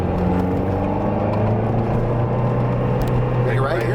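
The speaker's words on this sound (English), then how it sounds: "first of all, I hear the noise, and the great thing about the car is the V8 engine" Lotus Esprit V8 engine driving, a steady low drone heard from inside the car with a throaty tone that holds throughout and rises slightly near the end.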